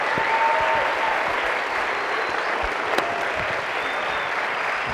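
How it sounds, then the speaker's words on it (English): Steady audience applause at an education event, dense and even clapping from a crowd that continues at a constant level throughout. "Please give another round of applause to Catlin, Sal, and Andrew."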